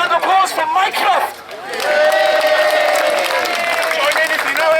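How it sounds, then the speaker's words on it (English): A protest crowd outside Steble Street Baths, gathered against its closure, breaks into a sustained round of applause and cheering. The applause is loud and broadband, and voices and chatter mix through it throughout. "can you give a round of applause for Mycroft?"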